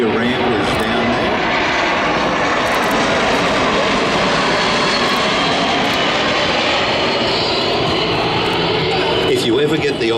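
Loud, continuous engine roar from a large four-engine military transport aircraft with Pratt & Whitney jets on the wings, heard at an air show, a steady broadband rumble filling the whole stretch with a voice talking over it.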